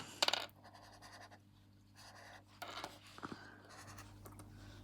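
Scratchy strokes of a Winsor & Newton white pigment marker with a small bullet nib dragging over paper, a few short bursts with a sharp tap near the start, fairly faint and close.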